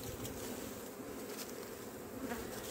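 Honeybees buzzing steadily around an open hive during a colony inspection, a dense continuous drone close by with no voices.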